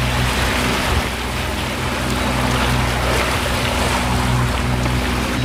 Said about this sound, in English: Got the barge coming out here.